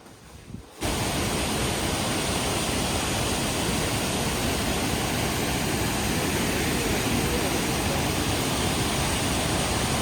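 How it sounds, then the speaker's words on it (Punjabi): Naga Falls pours down from a height in the mountains, a dense, steady rushing roar of falling water that fills the scene without pause after a brief quiet start. "ਆਪਾਂ ਹੁਣ ਖੜੇ ਆ ਨਾਗਾ ਫਾਲਜ"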